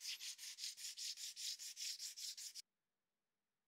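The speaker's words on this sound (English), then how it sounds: "I also softened the edges by hand with the sandpaper." Wood and epoxy coffee table edges sanded by hand with sandpaper: a steady run of about thirteen quick, even rubbing strokes, close and alone, which then stop abruptly into silence.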